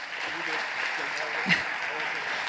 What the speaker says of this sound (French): on va pouvoir applaudir comme il se doit cette remise de trophées